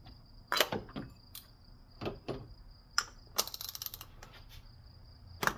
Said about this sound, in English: Use an oil filter wrench.